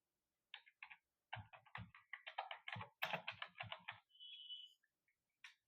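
Clicking keys on a computer keyboard while an address is typed into Tally ERP 9 accounting software, with quick irregular bursts of close, crisp keystrokes and short pauses between them. There is no speech.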